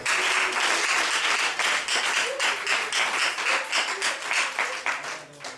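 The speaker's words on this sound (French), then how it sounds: "Applaudissez pour vous-même." Lively applause from a gathering on a charity visit to an orphanage, many hands clapping loudly and continuously with distinct individual claps standing out, and faint voices mixed in.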